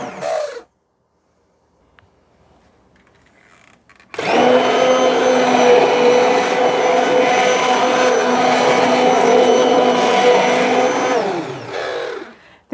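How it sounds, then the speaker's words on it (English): After a brief quiet pause, a stick blender switches on and whirs steadily through cooked tomatoes for several seconds, a loud continuous motor hum, then winds down. "I'm going to take this stick blender,"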